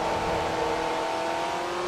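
A Class R3 race car in Forza Motorsport 3 accelerates hard, its engine holding a loud, steady, high-pitched whine throughout, with no voices.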